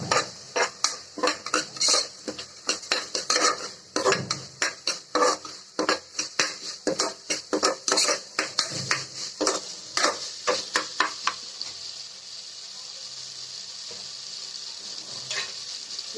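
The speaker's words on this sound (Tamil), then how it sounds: "அரிசியை சேர்த்துட்டு ஒரு வதக்கு வதக்கிக்கலாம்" Cooked rice is stirred and sautéed in a metal pan for malli pongal, with rapid, repeated scraping and clinking strokes of a ladle that stop after about twelve seconds, leaving a faint hiss.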